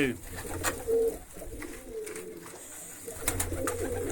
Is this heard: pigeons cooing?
yes